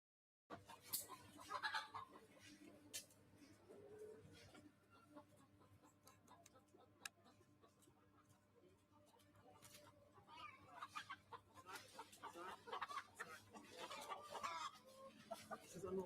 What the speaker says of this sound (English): So you could hear a little bit of small noises from birds